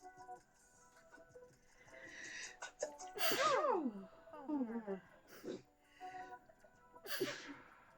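A person sneezes indoors during a pompom-crafting session: two sharp, loud bursts close to the microphone, with breathy vocal sounds between them.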